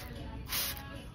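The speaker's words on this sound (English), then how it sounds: "Light spray, some lines." A spray bottle mists bleach onto wet fabric for a bleach-dyed crop top, giving one short soft hiss outdoors over a constant background rush of wind.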